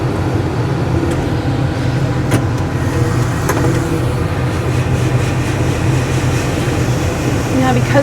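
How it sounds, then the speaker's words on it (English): A combine harvester's auger unloading corn through an open chute during a Midwest harvest, parked on a hill, gives a constant heavy mechanical drone and rumble that runs without a break throughout. "I'm going to turn on my auger system."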